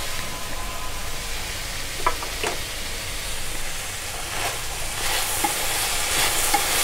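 Broad bean and tomato curry is stirred in a pan, a continuous hissing sizzle carrying light scrapes and clinks, two sharper knocks early and denser stirring toward the end, close by.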